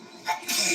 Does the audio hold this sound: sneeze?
yes